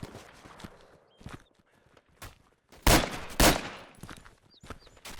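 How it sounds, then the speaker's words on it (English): Gunfire in the video game Darkest Hour Europe 44-45: a few scattered shots, then two loud, sharp blasts close together, with softer footstep-like knocks between them and no talk. "Shooting in this game is a little bit hard."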